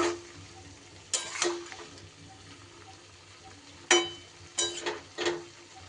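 Spices being mixed into vegetables including beans and eggplant in a cooking pan for a winter vegetable dish, with several sharp scraping stirs and clinks over a quiet background simmer.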